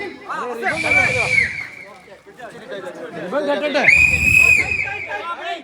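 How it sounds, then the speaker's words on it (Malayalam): A referee's whistle starting a tug-of-war match at a village contest, two long shrill blasts sounding out over a crowd's shouting and chatter. "ഫസ്റ്റ് വിസിൽ അടിക്കാൻ പോവുകയാണ്."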